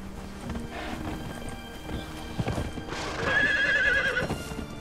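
Horse in the Conan Exiles video game: rhythmic hoofbeats clip-clopping nearby, followed by a loud, drawn-out neigh over a light wind-like background.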